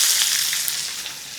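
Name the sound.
sliced onion frying in hot oil in a wok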